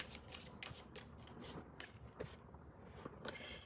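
A deck of cards is shuffled for a card reading: faint, close riffling and flicking in quick repeated bursts, with soft rubbing between them and no talking.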